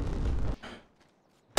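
A sniper rifle shot in Apex Legends lands as a heavy, booming report that decays over about half a second, then quiet, then a sharp onset of another blast at the end.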